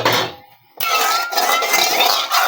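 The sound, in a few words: rinsing a Chinese wok-style pan with water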